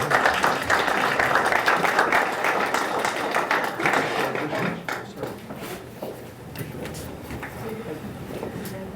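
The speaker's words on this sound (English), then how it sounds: "Let's give them all a round of applause." An audience at a city council meeting applauds steadily, a dense wash of many hands that holds for several seconds, then thins and softens toward the end, with some voices mixed in.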